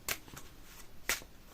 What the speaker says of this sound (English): We'll give these a quick shuffle.